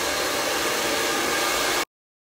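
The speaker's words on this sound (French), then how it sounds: "Mon tour pour pouvoir me sécher les cheveux." A hair dryer blows steadily at close range while drying hair at home, a loud continuous broadband whoosh lasting nearly two seconds before cutting off abruptly.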